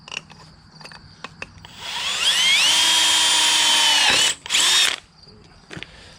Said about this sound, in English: As long as we drill straight.